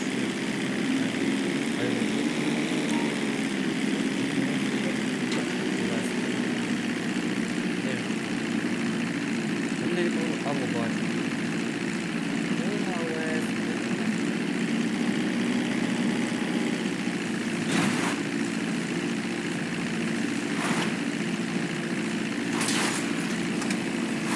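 A propeller airplane in the GTA V video game gathering speed, its engine a steady, loud droning roar that holds throughout, with a few sharp clicks and a voice speaking over it.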